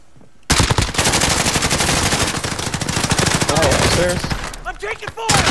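Rapid automatic gunfire in a Modern Warfare Warzone zombies mode match: a dense, loud burst of machine-gun shots starts abruptly and runs for about five seconds with a steady rapid rhythm, while a player's voice cuts in near the end.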